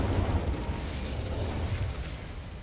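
A fiery Incendio spell blast erupts in Hogwarts Legacy, a dense rumbling whoosh of flame with a heavy low-end roar that stays loud and sustained for a couple of seconds.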